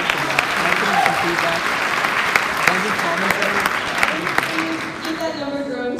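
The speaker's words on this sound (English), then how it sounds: "Let's clap for that." A school event audience in a hall applauds loudly and steadily for several seconds, with voices mixed into the clapping.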